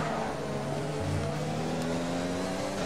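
A Formula 1 car in the F1 video game at the Bahrain Grand Prix, its engine whining steadily and climbing in pitch as it accelerates out of a corner, loud and close, with no voices.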